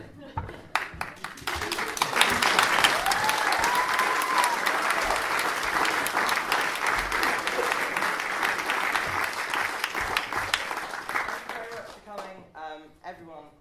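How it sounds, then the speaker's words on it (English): A school audience at a LAMDA evening of performances breaks into loud, sustained applause with dense clapping that swells quickly, holds for several seconds, then thins out near the end as a voice speaks. "give them another round of applause"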